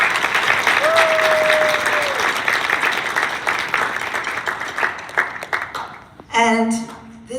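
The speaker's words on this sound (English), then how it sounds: "So can we give them a round of applause?" An audience at a school music event applauds the school board and administrators, sustained clapping that thins out toward the end, with a brief whistle early on and a voice starting to speak at the close.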